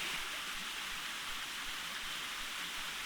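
Steady rushing water at a forest trail stream crossing in Tiadaghton State Forest, Pennsylvania, a dense, continuous hiss-like flow heard close by with no voices.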